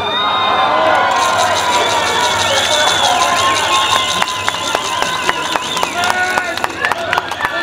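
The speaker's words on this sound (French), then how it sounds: "C'est pas lui que vous applaudissez, hein." A protest crowd at a national march in Paris, loud and close, cheering and shouting with scattered clapping, whistles and raised voices over a constant roar of people.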